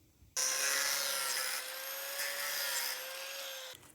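Close, steady rasping of a blade cutting through a stainless steel part while scrapping, sustained for about three seconds with a faint whine beneath, then stopping abruptly.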